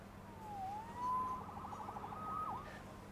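Police siren in the Spider-Man PS4 video game, a wailing tone sweeping up and down over a low engine rumble, rising and falling as it passes at moderate volume.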